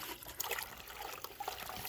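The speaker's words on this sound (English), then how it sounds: "So then once your sponge gets all loaded up like this, just take it in the water and rinse it out" A sponge loaded with cement mix is rinsed in water while polishing a concrete foundation, giving a soft continuous trickling and sloshing that is close and fairly quiet, with no talk.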